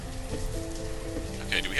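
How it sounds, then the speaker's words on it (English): Steady in-game rain in Banished hisses as a dense, even wash throughout, with a person talking over it. "And the rain starts."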